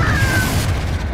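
A Confringo blasting spell going off in Hogwarts Legacy, a loud, close, short boom with a crackling burst that quickly fades, no voices.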